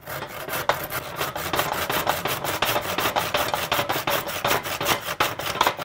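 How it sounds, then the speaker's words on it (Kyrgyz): A hand saw cuts through a thick wooden plate, its teeth rasping in a fast, steady rhythm of about twenty back-and-forth strokes, close and clear with no talking. "Ара менен кесип алса болот деп мына эң жөнөкөй."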